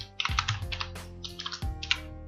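Keys on a computer keyboard are typed close and clearly, a few quick clusters of clicks with heavier thumps between them, no talk.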